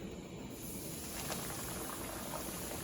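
Fish pieces fry in about an inch of peanut oil in a cast iron skillet, giving a steady, close, hissing sizzle with fine crackling throughout.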